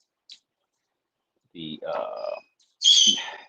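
A pet bird chirps and squawks to himself indoors, a few short, close calls separated by silence: one tiny peep, then a cluster of chatter and a brighter, louder call at the end.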